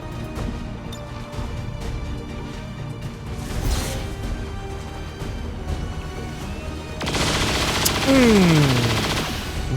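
Gunfire in XCOM 2 shooting an enemy: a loud rattling burst of shots with heavy impacts, then a burst of sharper, brighter blasts and a falling electronic tone near the end.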